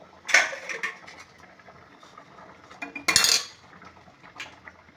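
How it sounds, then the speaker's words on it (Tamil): A ladle or spoon stirs sambar with drumstick leaves in a metal cooking pot, giving two bursts of clinking and scraping against the pot with quieter liquid movement between. "இப்போ கிண்டி விட்டுக்குருவோம்"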